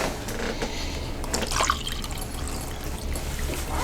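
Pickle juice pours in a steady trickling stream into a pressure cooker, a close, continuous liquid splash lasting a few seconds with no talk.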